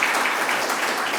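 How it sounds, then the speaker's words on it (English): A brief, loud burst of steady applause from an audience at an electric vehicle technology program, dense, uniform clapping filling the whole moment. "I wished like to give him a round of applause"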